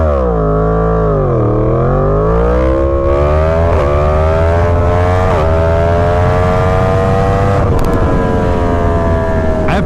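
A Yamaha FZ10/MT10 motorcycle under hard acceleration from 0 to 100 mph, its engine note dipping then climbing steadily in pitch through quick short-shifted gears, loud and close with wind roar behind.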